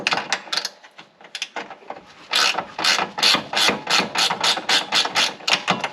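A wrench works loose a front strut bolt on a Porsche 996/997/986/987, giving a close, loud series of rasping, ratcheting clicks in quick rhythmic bursts, with no talk over it.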